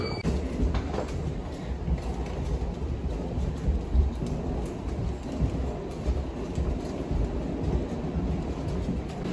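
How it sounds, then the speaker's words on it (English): Heavy rain pouring outside in Barcelona, a steady loud wash of noise with low rumbling underneath, continuous and close, with no voices. "It's fucking pissing rain outside."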